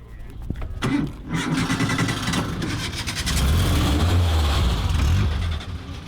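Race cars at Laguna Seca race track crank and fire up, building into a loud, steady engine rumble and revving that fills the clip, with voices faintly mixed in.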